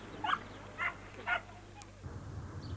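A Pyrenean mountain dog puppy gives three short, faint yips over a steady background hiss, followed by a brief low rumble.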